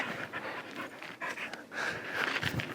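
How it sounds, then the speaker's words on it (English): A dog pants steadily and quickly close by, a continuous breathy rhythm with no talking over it. "Oh my gosh, this dog is so cute."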